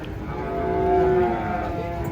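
A single long, loud cow moo swells and fades while cattle are unloaded from a truck, one of them agitated; steady background noise runs beneath it, with no voices.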